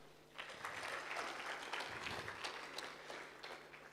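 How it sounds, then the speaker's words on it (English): A conference audience applauds a project team at a national family planning learning gathering, steady mid-level clapping that swells after a quiet start and carries on throughout with a faint hum underneath. "we can give all that team a round of applause"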